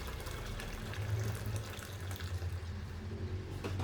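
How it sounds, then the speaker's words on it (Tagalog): Hot water poured in while cooking, a steady, continuous splashing rush of liquid that stays fairly even throughout, with no voices. "Dadagdagan ko na mainit na tubig."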